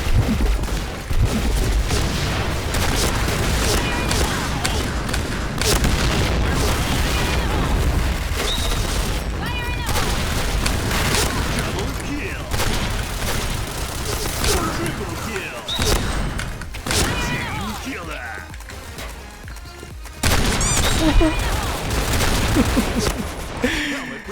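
M1014 shotgun blasts in the game Point Blank, repeated heavy booming shots scattered through a dense, loud mix of game noise, with someone talking over much of it.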